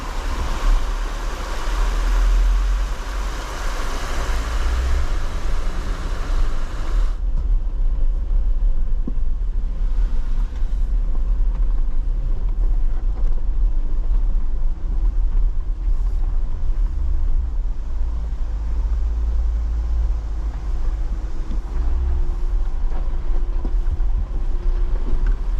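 An off-road vehicle on the Imogene Pass trail between Ouray and Telluride rolls through water, a broad rushing splash and surf-like wash over a steady low engine rumble that persists after the splashing fades.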